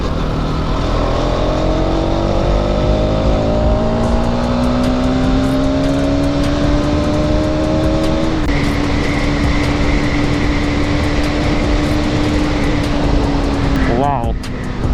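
A Bajaj Pulsar NS200 motorcycle with about 60,800 km on it cruises on an open road at dawn, its engine drone loud and constant with rising pitch as it accelerates, wind rushing throughout.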